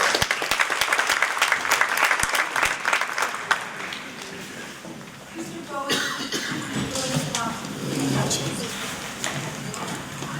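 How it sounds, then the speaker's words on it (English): An audience applauds a high school student presenter at a student startup pitch competition, loud scattered clapping fading after a few seconds, followed by a speaking voice while lighter claps linger underneath. "Let's give her a round of applause."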